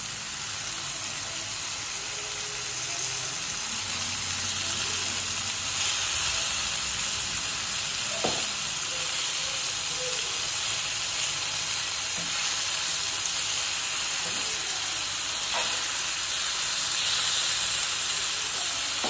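Chicken 65 pieces frying in a pan over a medium flame, a steady dense sizzle and hiss of hot oil throughout, with faint occasional clicks from stirring.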